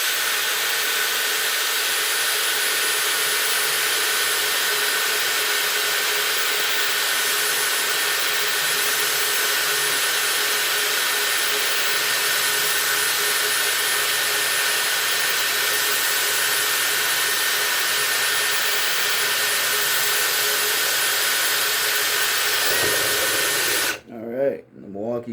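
A Milwaukee 1/4 inch cobalt bit in a cordless drill whines steadily and loudly for over twenty seconds, boring continuously with cutting oil before abruptly stopping near the end.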